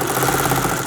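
A prototype 150 Samurai 2 sewing machine runs steadily up close, a dense continuous mechanical whir with a fast, even stitching rhythm and no pauses.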